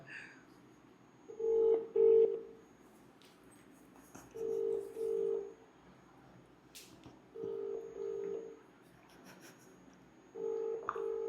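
A phone call rings out over speakerphone in four separate bursts of paired electronic tones with quiet gaps between them, fairly faint against a low room hum.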